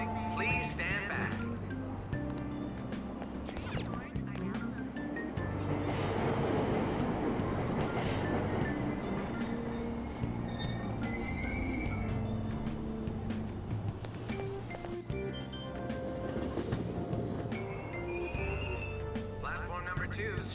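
Subway train pulling away from a Tokyo station platform in the video game Persona 5 Royal, a low rumbling roll with rising motor tone and rattling, moderately loud and continuous throughout.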